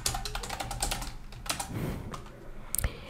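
Fingers type on a computer keyboard in quick irregular bursts of clicky keystrokes, close and fairly quiet, with short pauses between runs.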